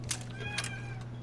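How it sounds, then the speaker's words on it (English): A house cat meows for attention indoors, giving a few short, faint meows close together over a steady background hum. "sorry, my cat is trying to get my attention."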